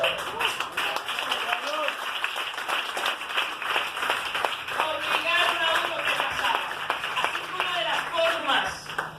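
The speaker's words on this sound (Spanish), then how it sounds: "Ahora usted puede aplaudir libremente al Señor" A church congregation claps steadily in rhythm, a dense run of close hand claps mixed with many voices singing or calling out.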